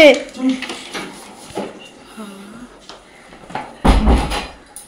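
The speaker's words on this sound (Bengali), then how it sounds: "এবার একটু ঢেকে দেবো।" A lid clatters down onto a pan of simmering fish in water on a home kitchen stove, one sharp metallic knock with a brief rattle after a stretch of talking.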